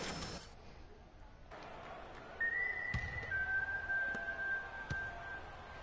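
A referee's whistle blows during a basketball video game, a sustained tone cutting in partway through over steady crowd and arena noise.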